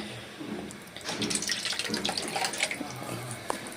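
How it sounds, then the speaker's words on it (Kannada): Water pours and splashes briefly into a pan nearby, a short liquid gush with small drips and no talking. "ಇದಕ್ಕೆ ಸ್ವಲ್ಪ ನೀರು ಹಾಕಬೇಕು."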